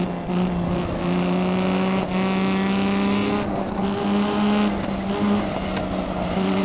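A Lamborghini Miura P400SV engine in the racing game Assetto Corsa, droning steadily at low revs around 4,000 rpm with small shifts in pitch, loud and continuous without any break.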